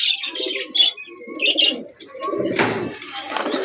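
A pair of beauty pigeons coo in soft, rolling bursts up close, followed by sharper chirps and a brief rustle near the end; no talking.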